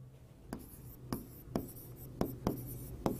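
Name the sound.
writing on a board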